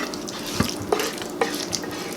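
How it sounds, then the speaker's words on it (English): A thick keto chicken fajita mixture is poured and scraped into a casserole dish, giving a steady wet, sloshing rush with a few soft clunks of the utensil against the dish. "now we are going to pour our mixture into our casserole dish"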